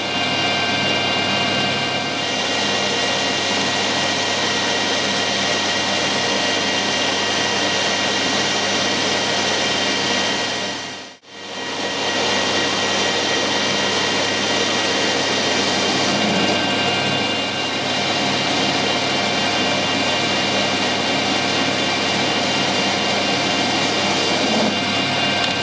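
Steel blank held in a collet chuck on a small lathe, machined with a continuous, loud, even whirring hum from the running machine, briefly dropping away midway before resuming; no talk.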